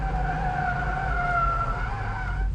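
A Eunos rear-wheel-drive car corners on a skidpad, its tires squealing in a sustained, steady tonal screech over a constant engine drone, loud and close.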